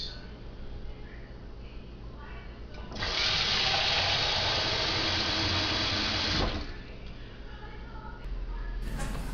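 Water running from a sink tap for about three seconds, a steady broadband gush that starts and stops abruptly, close by against a quiet room background.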